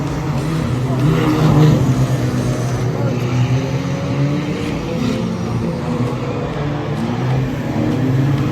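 A race car on a wet oval track at Cowdenbeath Racewall accelerates out of a corner as its wheels spin, the engine droning steadily and loudly throughout.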